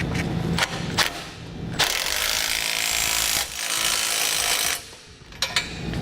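A socket and wrench tighten 1/2 inch bolts on a Roadmaster Direct-Connect base plate behind a vehicle bumper, with bursts of ratcheting and metallic scraping that come and go over several seconds, close and fairly loud.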